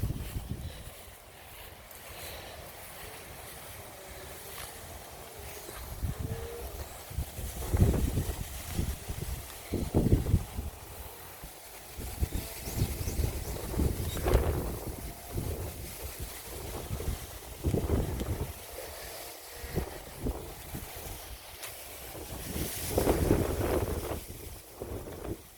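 Wind gusting across the grass-covered crater summit of a volcanic hill on Jeju, a steady roaring rush with buffeting surges against the microphone throughout.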